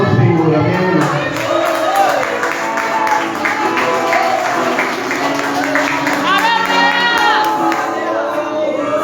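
A church congregation at a vigil prayer meeting claps and cheers, sustained applause mixed with shouts and voices throughout.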